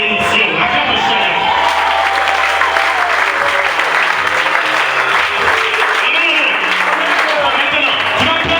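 A church congregation applauds the Lord in loud, sustained clapping that fills the whole stretch, with voices rising through the crowd.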